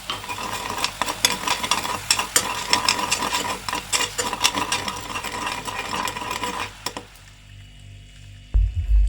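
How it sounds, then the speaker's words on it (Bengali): Sugar and water cooking into caramel in a pan over a low gas flame, a busy crackling, bubbling sizzle with scraping stirring strokes, steady and close, that drops away near the end. "তোমরা দেখতে পাচ্ছ চিনিটা ফুটে এসছে"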